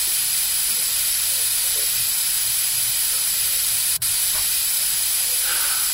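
Steady hissing water spray rinsing a patient's teeth in a dentist video game, continuous and fairly loud, with one brief click partway through and no talking.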